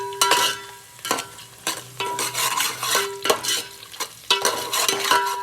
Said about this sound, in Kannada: ಆನಿಯನ್ನ ಫ್ರೈ ಮಾಡ್ಕೊತಾ ಇದ್ದೀನಿ.